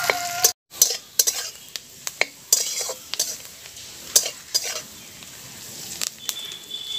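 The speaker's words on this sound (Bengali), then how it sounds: "বাঁধাকপিটাকে একটু হালকা করে ভেজে নেব।" Cabbage frying in a pan, with a soft sizzle under repeated sharp clinks and scrapes of a utensil stirring against the pan, irregular and close.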